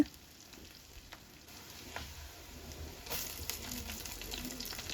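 Green chillies and curry leaves sauté in hot oil for a Kerala fish curry, a soft, faint sizzle with light stirring that swells a little louder midway and continues steadily.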